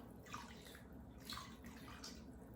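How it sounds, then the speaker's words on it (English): Evaporated milk poured from an opened can into a pot of broccoli cheddar soup, giving a soft liquid splashing and glugging in a few short pulses, faint and close, with no voices. "My can of evaporated milk goes in."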